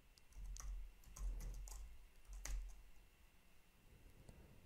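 A file name being typed on a computer keyboard, a short run of quick, close key clicks in small bursts against a quiet room.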